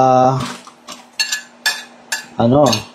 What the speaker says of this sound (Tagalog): At habang ako ay naghugas ng pinggan